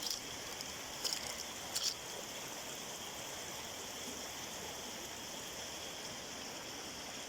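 A mountain stream flows steadily nearby, a soft constant rushing wash of water with a couple of brief clicks near the start, no talk.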